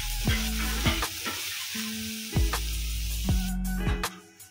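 Garlic shrimp sizzling in a hot pan as it browns, steady frying hiss broken by repeated sharp scrapes and knocks of a utensil stirring against the pan, no voices.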